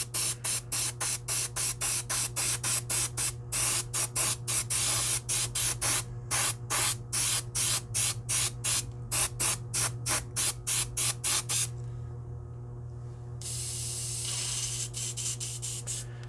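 Airbrush spraying dark gray-blue paint onto a model in rapid repeated short bursts of close hiss, ending in a longer continuous spray.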